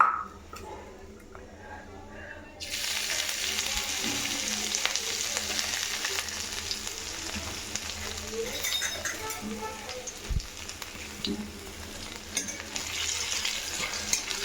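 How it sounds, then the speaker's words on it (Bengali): Cumin seeds and ginger sizzle in hot oil in a wok, starting quiet and jumping to a loud steady crackle after a few seconds, with occasional clinks of a utensil against the pan. "তো প্রথমে কড়াইতে তেলটা গরম করে আমরা একটু জিরে ফোড়ন দিয়ে দিয়েছি।"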